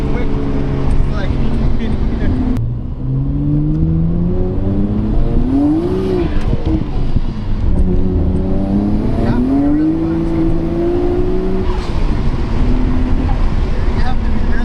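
A Nissan Skyline R32 GTR accelerates hard through its gears, the engine note climbing steadily then dropping at each quick shift, loud and close throughout with a continuous rising and falling engine drone.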